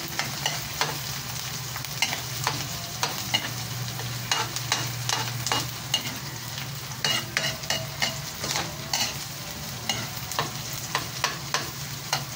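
Ginger and garlic sizzle softly in a pan for monggo while a utensil scrapes and stirs in quick repeated strokes, close by and without speech.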